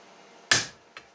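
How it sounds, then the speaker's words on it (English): A hammer strikes metal held in a vise to press dimples, one sharp loud clank followed by a fainter second tap, no talking. "it's easier to do it with a vise or a hammer"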